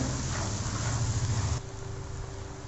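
Potatoes sizzle in hot oil in a pan while being sautéed for a Lahori chickpea curry, a close, dense crackling hiss that drops to a softer, steadier fizz partway through.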